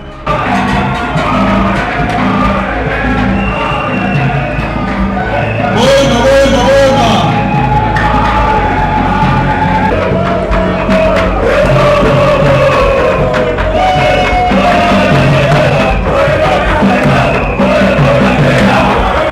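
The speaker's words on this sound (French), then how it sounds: "le professeur Claude Nyamugabo fait son entrée dans la salle sur un tonnerre d'applaudissements, de hurrahs et de vivas." A large indoor crowd at a political party congress in Kinshasa roars and shouts continuously, a dense wall of applause, voices and cheering filling the hall, loud and sustained.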